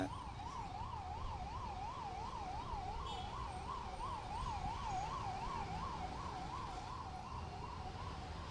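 An ambulance siren wails in a steady, rapid up-and-down pattern throughout, loud and close, over a constant rumble of road traffic on a road with speed bumps.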